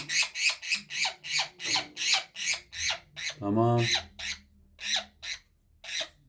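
A female budgerigar squawks in a fast series of sharp, repeated chirps, close and fairly loud, with a brief spoken word from a person in the middle.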